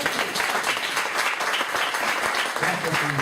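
Congregation applause at a church service, a loud, dense and continuous burst of clapping from a large group, close and unbroken, with voices mixed in.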